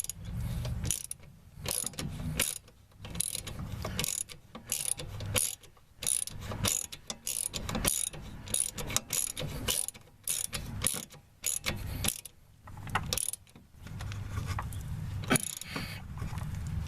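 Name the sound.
tightening bolt with ratchet wrench on Toyota Sienna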